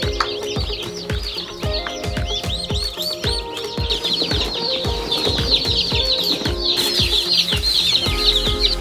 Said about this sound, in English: They're pecking.